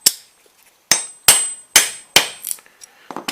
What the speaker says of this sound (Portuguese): basta dar uma marteladinha para romper aí algum canto de solda que ficou, alguma coisa, com a talhadeira